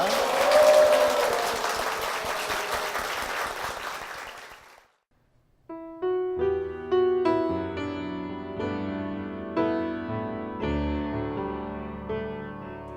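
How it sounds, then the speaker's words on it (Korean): Applause fills a church during a service, strong and sustained for several seconds before fading out, followed by piano chords starting up. "힘찬 박수 부탁드리겠습니다"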